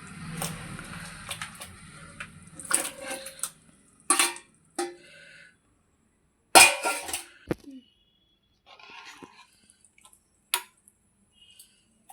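Fish pieces are added to simmering tamarind fish stew in Telangana style, producing a few scattered wet plops, squishes and drips, with quiet gaps between them.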